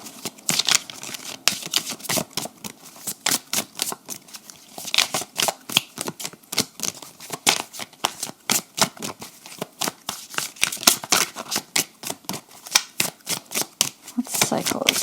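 Tarot cards being shuffled by hand, a close, steady run of quick riffling and flicking bursts that carries on almost without a break throughout.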